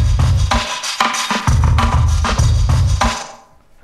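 A drum break pushed through the Audio Damage Rough Rider compressor on its Drum Bus Squisher preset, with loud, dense, heavily squashed kicks and snares hitting in a steady groove before the sound drops away at the end.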